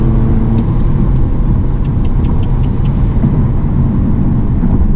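A 2015 BMW 420d F33 convertible with a new exhaust drives in sport mode, its diesel engine giving a loud, close, steady low rumble with slight surges throughout.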